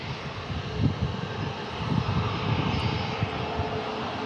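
A jet airliner comes in to land at San Diego airport with flaps at 30, its engines producing a continuous broadband roar that swells slightly and stays steady throughout, heard from nearby without talk.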